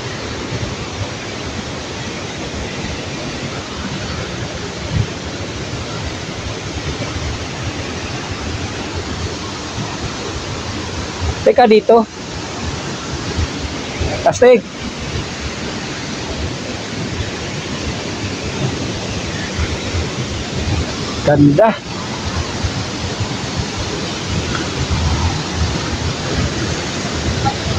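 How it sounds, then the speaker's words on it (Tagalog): Powerful waterfall at Apo Falls in Claveria, Misamis Oriental, roaring as a steady, loud, broadband rush of crashing water throughout, with brief handling bumps and a few short spoken remarks over it. "dito sa Apo Falls. Oh my God! Wow! Ganda. Sobrang lakas sa tubig."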